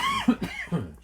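A short, close cough in two or three quick bursts, fairly soft, alone with no talk.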